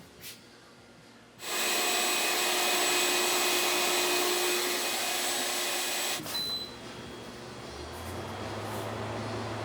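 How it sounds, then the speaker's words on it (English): A loud vacuum cleaner switches on in a garage workshop to vacuum out a truck, with a steady whine, runs continuously, then drops in pitch and fades as it powers down near the end. "I'm going to vacuum it out so we can get the AC going."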